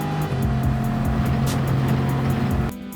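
Group 4 Bugatti Veyron racing at Le Mans in Gran Turismo 7, engine droning loud and steady with a shifting tone, then dropping pitch abruptly near the end as if changing gear.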